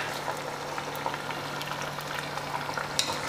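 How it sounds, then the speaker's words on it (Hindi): Chicken frying in a pan with ginger-garlic paste and garam masala for biryani, a steady soft sizzle and bubbling with occasional light crackles and stirring, constant and fairly quiet with no talking. "चिकन की बुनाई के साथ साथ हम यहाँ पर लहसुन अदरक का पेस्ट भी ऐड कर लेते हैं, इसकी भी अच्छी तरह से बुनाई कर लेते हैं"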